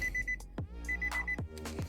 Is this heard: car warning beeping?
yes